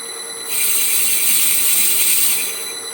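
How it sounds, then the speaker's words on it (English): A metal file works the radius on a 5-inch gauge steam locomotive tender wheel, a single steady rasping stroke, close and fairly loud. "we're just going to work the radius with our file"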